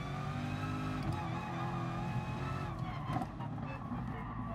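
A race car in Gran Turismo Sport at Willow Springs accelerates out of a corner, a steady high-pitched engine whine rising in tone, constant and fairly close, with traction control cutting in.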